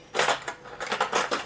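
Forks are handled in a kitchen, with two short bursts of metallic clinking and rattling, close up and moderately loud.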